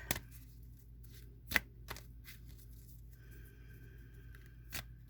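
Tarot cards are shuffled and handled in a quiet room, with a few sharp riffling snaps and softer papery slides spread across the moment over a low steady hum.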